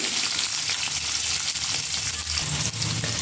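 Chana dal, mustard seeds, green chilli and onion fry in hot oil, a close, constant hissing sizzle with fine crackles and faint stirring underneath, heard alone.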